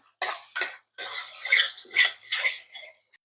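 Yogurt mixed into keema in a pan: close, bright scraping and clattering strokes of a spoon against the pan, in uneven bursts with short silences between them and a final small tap.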